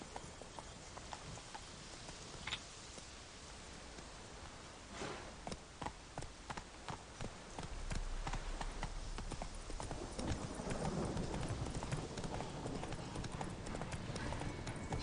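Roach, a horse in a video game, gallops steadily with rhythmic clip-clopping hooves, growing louder and fuller partway through as the pace picks up; a voice speaks briefly.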